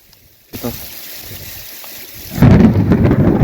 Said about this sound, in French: un orage isolé qui s'est formé sur le bassin d'Arcachon et qui aura donné un super bolt juste en face de moi